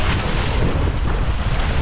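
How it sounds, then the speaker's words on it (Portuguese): Moderate sea wind on a fishing boat, roaring loud and constant as it buffets the microphone, mixed with the wash of waves around the hull. "Hoje o vento é aquele vento que não é nem de mais nem de menos."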